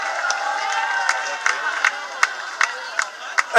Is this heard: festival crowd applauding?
yes